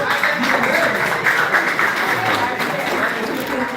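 Audience clapping at a school outreach event, a dense steady patter of many hands lasting throughout, with voices and crowd murmur mixed underneath.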